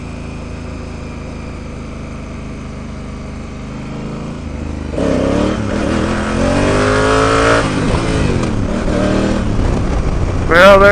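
A Honda Africa Twin CRF1000L motorcycle idles with a low, steady rumble, then revs up loudly halfway through with surging, rising engine pitch as the rider pulls a wheelie nearby.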